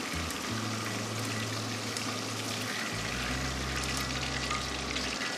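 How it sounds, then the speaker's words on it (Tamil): Chicken pieces fry in hot oil for an orange chicken dish, giving a continuous loud sizzle with crackling and a low hum beneath it. "எல்லா சிக்கனுமே நம்ம ஃப்ரை பண்ணி எடுத்துக்கிட்டோம்"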